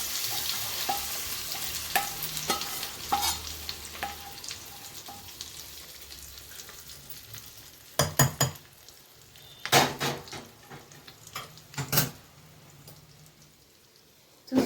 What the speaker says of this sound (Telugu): ఇగో నల్లేరు పచ్చడి పోపు వేసుకుంటున్నా.